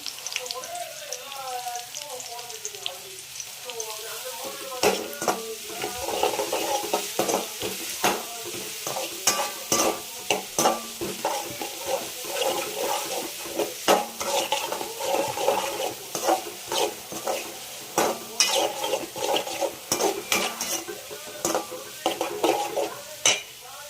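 Ground paste of ginger, garlic, black pepper and cumin sautéed in a pan for soya chunk curry: steady close sizzling and frying with repeated sharp scraping and stirring clicks of a spoon against the pan throughout.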